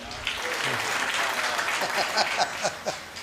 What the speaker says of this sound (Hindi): तो एक बार ताली बजा दीजिए।